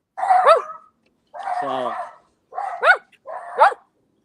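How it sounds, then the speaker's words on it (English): Dogs bark in several separate bursts with yelps and a whining tone between them, close and fairly loud. A voice comes in briefly between the barks. "And all the dogs go crazy."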